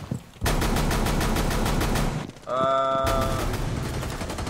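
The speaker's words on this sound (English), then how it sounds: "here's a little sneak peek of what Ella's shotgun's like on console." Ela's shotgun in the video game Rainbow Six Siege, played on console, fires in loud, rapid repeated blasts that run for about two seconds, break off briefly, then resume in sustained bursts.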